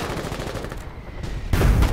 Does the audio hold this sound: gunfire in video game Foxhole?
yes